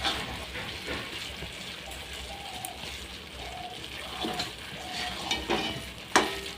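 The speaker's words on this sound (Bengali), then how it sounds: "বন্ধ করে দিয়ে তবু 1 মিনিটের মতো এদিক ওদিক নাড়তে হবে" Coconut mixture being stirred in a wok with the gas off, soft scraping and a faint residual sizzle in steady back-and-forth strokes, close, with a few light clinks.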